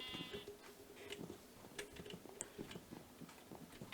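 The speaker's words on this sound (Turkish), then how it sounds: "Şimdiki sırada koyunlarımız var. Koyunlarımızı da ileriye koymuştuk. Hemen onları alalım." Sheep on a farm in the Minecraft video game bleat a few times, faint and thin over a steady background murmur with light ticking, no talk.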